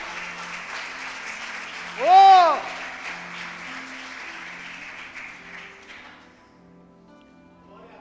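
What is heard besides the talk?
church congregation applauding for Jesus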